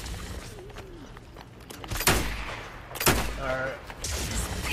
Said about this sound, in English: They're wasting all their revolver ammo.